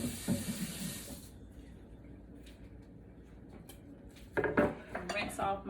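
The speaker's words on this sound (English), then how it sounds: "Rinse off my knife." A kitchen knife rinsed under a running tap, with clinks of metal against the sink and dishes, quiet in the middle and then a louder burst of splashing water and clattering toward the end.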